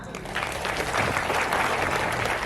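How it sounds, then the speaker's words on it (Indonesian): Audience at a Maulid Nabi religious gathering breaks into steady, dense applause, a continuous wash of many hands clapping at full strength for the whole stretch without pause. "Tepuk tangan."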